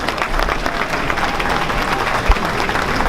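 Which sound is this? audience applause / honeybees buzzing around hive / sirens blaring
audience applause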